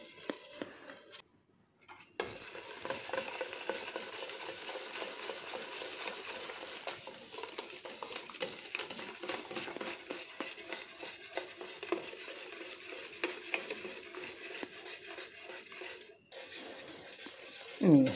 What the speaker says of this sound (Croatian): Miješam i dalje, znači sve dok ne provri treba miješati da ne bi prigorilo i da se ne bi stvorile grudvice.